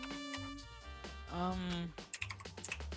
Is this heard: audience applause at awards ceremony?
no